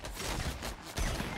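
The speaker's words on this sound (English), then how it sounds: "Being shot at." Gunfire in Fortnite: rapid bursts of shots crackle in two clusters with a short gap between them, moderately loud and up close, with no talk over them.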